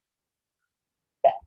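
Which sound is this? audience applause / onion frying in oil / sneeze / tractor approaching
sneeze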